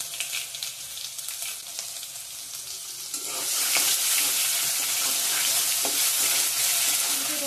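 Tomato with salt, cumin and ginger frying in a pan sizzles steadily, swelling louder midway as the mixture is stirred, close and without talk.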